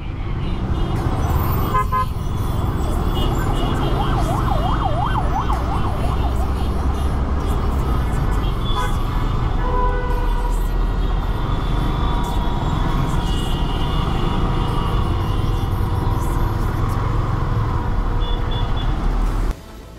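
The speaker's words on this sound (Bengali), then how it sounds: "সকাল সকালে খেয়ে গেলাম কঠিন জ্যাম।" A heavy morning traffic jam on a city road makes a continuous low engine rumble, with short horn toots early on and a voice talking now and then over the steady din.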